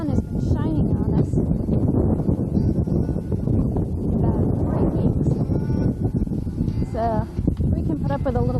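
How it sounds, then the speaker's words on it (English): Wind buffeting a microphone outdoors on a sunny day, a constant low rumble and rustle beneath people talking close by. "Very windy today"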